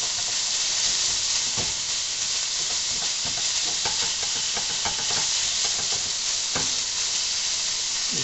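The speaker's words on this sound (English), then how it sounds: "I'm browning the burger, and as I do it, I'm kind of breaking it up into smaller chunks than what I was able to put it in originally" Ground hamburger meat browning in a pan, sizzling and frying steadily with a bright hiss throughout, broken up with a spatula that adds occasional scraping and stirring clicks.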